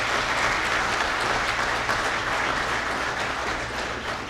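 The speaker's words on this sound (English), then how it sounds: "you ought to give yourselves a round of applause." An indoor audience claps continuously in steady, dense applause that fills the room and fades slightly at the end.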